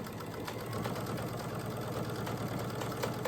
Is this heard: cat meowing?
no